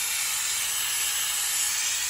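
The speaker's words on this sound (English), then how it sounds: "you pass over, you hit everything with that steam" A Vevor 8-in-1 steam mop releases a steady, close hiss of hot steam while passing over a floor, the sound constant and alone for a couple of seconds.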